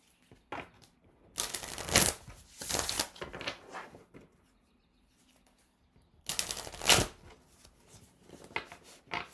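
Oracle and tarot card decks are shuffled in quick, riffling bursts, close and crisp, with two busy stretches separated by a quiet pause and no one speaking.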